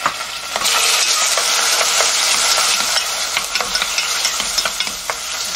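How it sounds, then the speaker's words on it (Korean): Oysters stir-fry in sesame oil in a warmed pot, giving a steady close sizzle broken by scraping stirring strokes, with no talk. "굴을 넣고 살짝 볶아줍니다."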